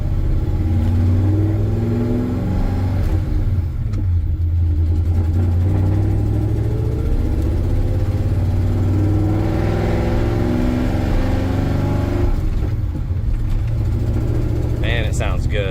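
1986 GMC CK 3500 2WD dually with a 454 V8 heard from inside the cab while driving, a deep loud engine rumble rising and falling through gear shifts, with road noise throughout.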